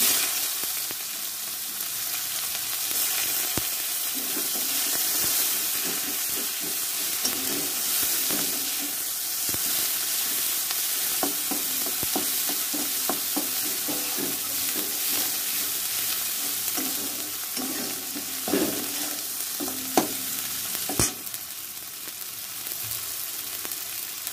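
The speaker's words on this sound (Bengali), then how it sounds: "তার মধ্যে আমি দিয়ে দেবো এবার পেঁয়াজটা।" Onions frying in hot oil for a fish and potato curry, a steady loud sizzle filling the pan with frequent scraping stirs and clicks of a utensil against the pan throughout, no voices.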